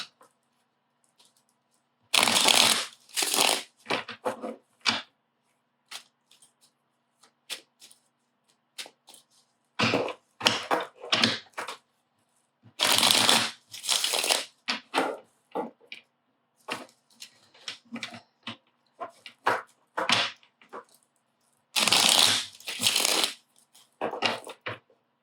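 Tarot cards being shuffled by hand in several bursts of crisp riffling and flicking, each lasting a second or two, with softer card taps and handling between them and no talking.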